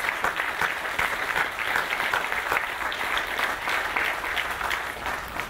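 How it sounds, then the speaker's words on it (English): A room of people at a shopping center groundbreaking ceremony applauds steadily, a dense, even wash of many hands clapping at close range throughout, with no pauses. "give everyone in this room a rousing round of applause for your patience through this process"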